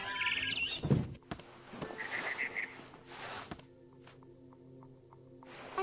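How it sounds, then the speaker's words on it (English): Barn swallow chirping in the video game What Remains of Edith Finch, scattered bright chirps over a layered game soundscape with soft thumps and a steady ambient hum. "Then I heard chirping outside my window. It was a barn swallow going back to her nest."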